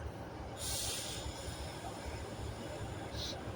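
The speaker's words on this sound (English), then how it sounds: "390 Pendolino to London Euston, 390 118 from Glasgow Central." Class 390 Pendolino 390118, running from Glasgow Central to London Euston, passes through Carlisle as a low, distant rumble with short bursts of high hiss or wheel squeal.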